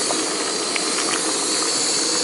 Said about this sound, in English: That's a rolling boil at 1 minute 33 seconds.